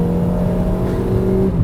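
A 2003 Nissan Sentra engine on new tires hums steadily from inside the cabin, its tone rising slightly as it picks up speed, with road noise underneath.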